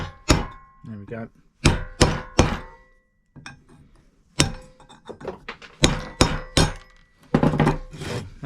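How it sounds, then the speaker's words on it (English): Sharp hammer blows drive a chisel against 6mm steel plate on a crossmember assembly, landing in irregular clusters of metallic clangs with short pauses between them, close and loud in a workshop. "we'll knock that out with hammer and chisel"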